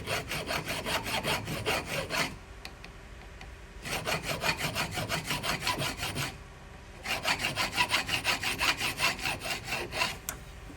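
Half-moon file rasping across the splines of a CV axle shaft, three long stretches of quick, rhythmic back-and-forth strokes, close and steady, separated by brief pauses; no talking.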